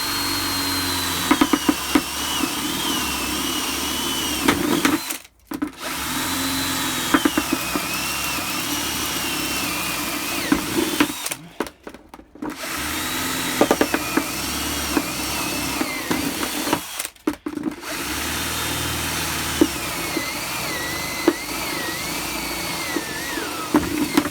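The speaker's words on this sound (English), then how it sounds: "So I'll just use a step bit and just case of drilling through." A power drill spins a step bit through the plastic base of a 25-litre bucket for a worm bin, a loud sustained whine with rising and shifting pitch, cutting out briefly three times between holes.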